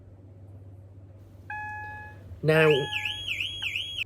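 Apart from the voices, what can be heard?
car alarm sounder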